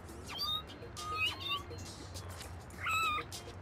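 Several short meows from cats in the video game No More Heroes, rising tonal cries spaced across a few seconds over a steady low background hum, with faint voices in the background.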